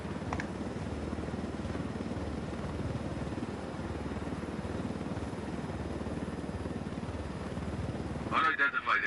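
Video game aircraft flying overhead in a PlayStation 4 game, a steady, loud rotor-like engine drone that holds for several seconds before other noises break in at the end.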